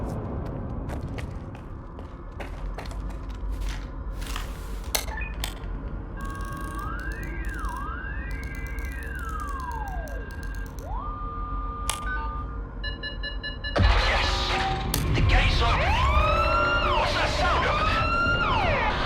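An alarm siren blares in the X3 laboratory of STALKER 2, sweeping up and down in wailing tones over a low ambient hum, then a louder burst of layered electronic tones and chirps takes over near the end.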